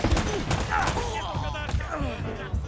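Sniper rifle shots and a barrage of gunfire in the action video game Uncharted: Drake's Fortune, loud sharp cracks bursting repeatedly through the clip with game effects and voices around them.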